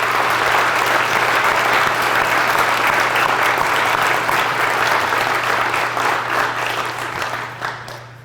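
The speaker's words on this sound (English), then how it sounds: "So let's give them a round of applause as well." Sustained audience applause at a Founders' Day convocation, dense and loud throughout, tapering off in the final second with a low steady hum beneath.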